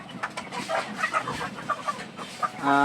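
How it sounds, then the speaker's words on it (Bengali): Three-month-old Fayoumi chickens and young roosters on a poultry farm cluck and chatter in short, close bursts. A louder, drawn-out call rises at the very end. "এখানে প্রায় চল্লিশ থেকে পঞ্চাশ পিস বাচ্চা মোরগ মুরগি রয়েছে"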